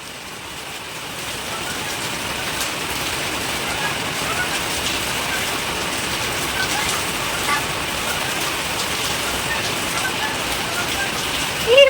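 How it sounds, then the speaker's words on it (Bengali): Steady, dense rain falling on a rooftop, a loud continuous hiss and patter that holds without pause from start to end, with no voices standing out. "তুমি যাও, বৃষ্টিতে যাও"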